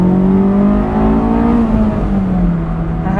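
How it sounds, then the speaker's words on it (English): A Honda S2000 engine, a 2005 AP2 model, revs hard while driving, a loud, close, steady high-pitched wail that rises and falls slightly under road noise. "Engine loves to rev. Throttle response is amazing."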